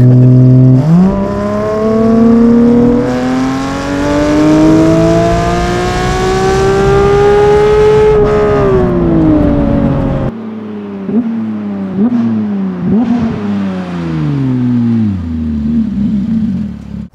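A Porsche 992 GT3 with straight-pipe exhaust revs in sport mode, a loud, high-pitched wail rising and holding, then dropping back, followed by a series of sharper blips and falling revs close by.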